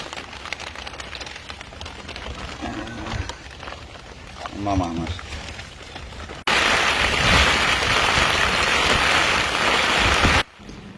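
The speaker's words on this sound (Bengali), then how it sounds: "আকাশ ভেঙে বৃষ্টি নেমেছে।" Heavy rain pours onto a polythene sheet that fishermen have stretched up in the Sundarbans forest, beside a small creek reached by dinghy. Someone talks briefly over a light patter, then a loud, steady roar of downpour takes over for about four seconds before stopping abruptly.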